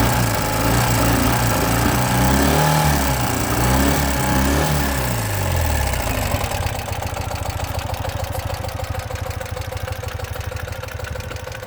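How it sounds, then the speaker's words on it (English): A 2009 Ural Sahara Limited Edition 2WD sidecar motorcycle with a fuel-injected engine runs close by, a loud, steady engine drone with a rapid pulsing beat that shifts pitch partway through and then settles into an even idle. "you notice how the fuel injected has a little bit different sound?"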